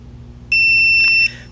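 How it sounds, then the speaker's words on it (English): A single sharp, high electronic beep from a tire pressure monitoring tool sounds for under a second, close and clear over a quiet hum. "press the mode button for 6 seconds until you hear a beep."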